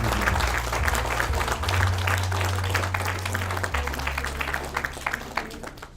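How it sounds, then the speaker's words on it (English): Audience applause for Year 13 graduates at a school graduation ceremony, sustained clapping across the hall with a steady low hum underneath, no voices standing out. "we can have a big final round of applause for all of our graduates"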